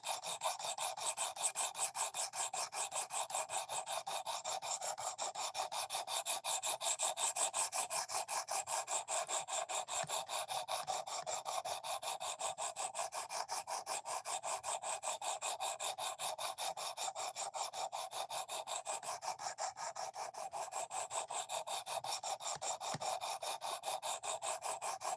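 Steady continuous rasping of a knife edge being sharpened, an even abrasive scraping that runs unbroken and fairly close for the whole stretch, with no voices.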